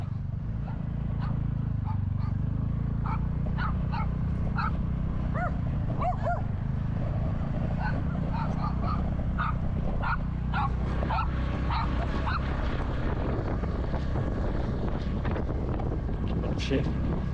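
Several dogs bark repeatedly at someone walking outdoors in Mullaitivu, Sri Lanka, with sharp, close yips and barks scattered over steady wind rumble on the microphone.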